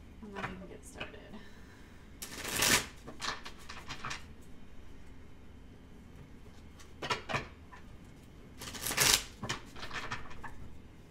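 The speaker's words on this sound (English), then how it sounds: "I'm going to shuffle the cards." Tarot cards are shuffled in two short, crisp bursts of riffling a few seconds apart, close and fairly loud against a quiet room with soft talk nearby.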